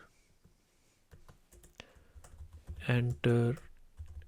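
Computer keyboard keys tapped while building a LabVIEW program, a scattering of sharp clicks followed by a couple of louder, longer keystroke bursts, with a person speaking briefly.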